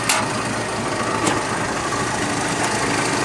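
A 1929 Shay-built Ford Model A Roadster sits idling nearby with a steady, even engine hum and a few faint ticks, and no talk over it.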